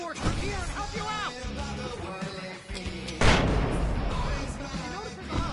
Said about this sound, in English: I can set off more of the fireworks from here and help you out!